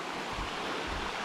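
Eklutna Creek runs toward Eklutna Lake near Anchorage, filling the air with a steady, broadband rush of flowing water, close and continuous, with no speech.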